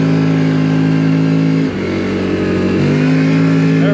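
2025 CFMOTO Cforce 800 Touring ATV in four-wheel drive churning through deep mud, its engine revving loud and close with a steady drone that dips briefly before climbing again.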